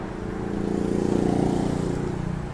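A Ford Ranger's 1.8 engine idles with a steady, close, low rumble that swells slightly and then eases, with no voices over it.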